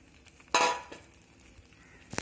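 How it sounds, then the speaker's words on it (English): Cooked cauliflower and green peas get a quick stir into a coconut kurma gravy in a pan; one short burst of scraping and a light clink, then quiet, with a faint knock at the end. "Give it a quick stir."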